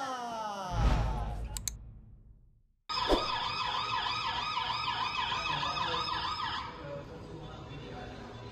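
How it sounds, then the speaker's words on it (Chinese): Police siren wailing on a busy Taipei street, loud and close, its rising and falling tones cycling steadily over road noise after an earlier passing vehicle swell. "警笛声大作，远警骑车急奔现场。"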